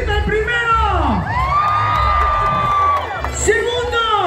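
Fair crowd at a dance contest in Cacahoatan, Chiapas, shouting, whooping and cheering loudly for the first contestant, with rising and falling voices and yells close up.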